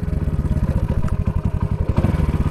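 A motorcycle engine idles in neutral and then pulls away in first gear. It gives a steady, close, pulsing thump that stays loud and regular throughout, with no speech.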